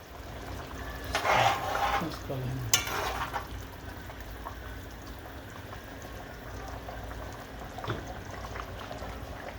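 Eru stew with egg cooking in a pot, giving a steady low simmering and bubbling hiss, with a few clinks and stirring sounds near the start.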